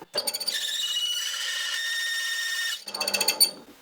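A dull drill bit in a drill press squeals shrilly against metal for a couple of seconds without cutting, then chatters roughly as it stops, close and piercing.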